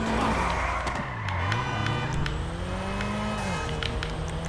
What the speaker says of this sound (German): Jetzt fahre ich noch schnell mit meinem zweiten Spieler.